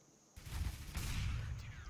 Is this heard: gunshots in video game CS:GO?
yes